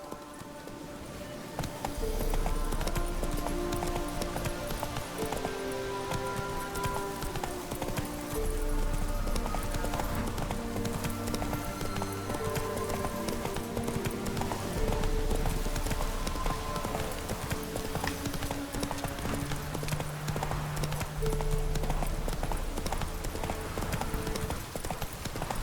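Roach, the horse in The Witcher 3: Wild Hunt, gallops with steady rapid clip-clop hoofbeats under game music for the whole stretch, fairly close, with a brief snort or whinny and no talking.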